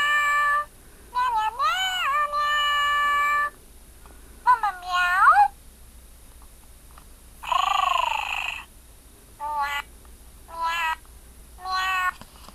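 A FurReal Friends Luvimals Sweet Singin' toy kitty gives a string of bright, electronic meows and sung tones in short bursts separated by silences, loud and close.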